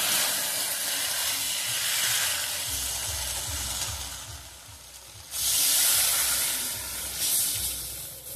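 Water pours into a hot pan of prawns and taro stolons, setting off a loud, steady hiss and sizzle that swells sharply partway through and keeps bubbling close up, with no talk.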